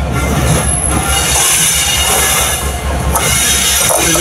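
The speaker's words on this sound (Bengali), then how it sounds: "এই যে ট্রেন একটা আসলো" Train pulling into Panchagarh railway station in Bangladesh, a loud, steady rumble of rolling rail cars with squealing wheels and a high metallic whine, heard up close throughout.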